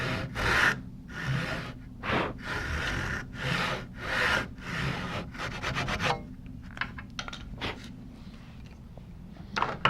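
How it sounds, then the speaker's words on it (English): A fine-toothed crosscut saw cuts through a wooden window sash in a run of rhythmic rasping strokes, steady and close at first, then shorter and more broken toward the end. "So I'm going to take a crosscut saw with relatively fine teeth."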